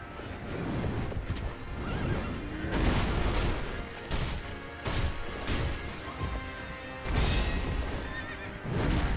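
An enemy's horse neighs loudly in the video game Sekiro, its whinnies repeating amid clattering hooves and sharp crashing combat impacts over roughly nine seconds.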